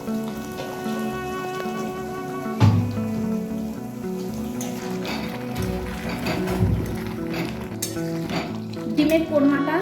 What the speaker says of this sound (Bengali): সবটাকে আবারও ভালো করে মিশিয়ে নিচ্ছি।